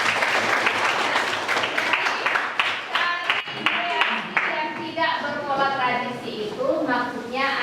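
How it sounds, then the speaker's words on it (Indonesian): A class of students applauds a classmate during a teaching-practice lesson, loud dense clapping for about four seconds that thins as a teacher starts talking over it. "tepuk tangan untuk Denis"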